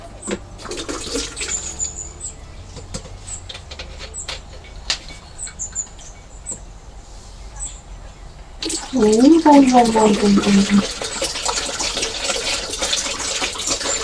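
A liquid mixture for soap making is poured into a container, a steady watery trickle and splash running throughout that grows louder and fuller partway through, while a voice talks over the later part.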